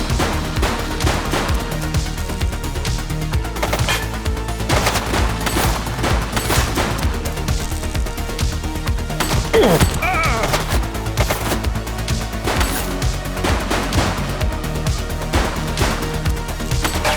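Rapid gunfire in The Precinct, sustained bursts of automatic shots and crashing impacts running through a loud, busy game mix with shouted voices.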